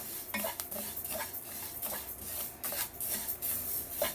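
Dry scraping and stirring of flour being dry-roasted in a pan, with a spatula rasping and clinking against metal in repeated strokes, close up with no talking.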